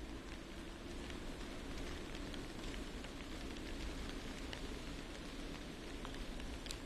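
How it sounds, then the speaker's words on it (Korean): Steady rain falling at Jamsugyo bridge in Seoul after Typhoon Jongdari, a continuous, even hiss of drops on surfaces with no voices, filling the whole stretch at a constant level. "지금 서울에도 비가 오고 있습니까?"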